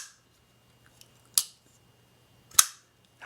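Mitch Clark Gunstock pocketknife with a very thin slicing blade, its lock snapping shut twice: two sharp, close metallic clicks about a second apart, with faint handling ticks between them in a quiet room.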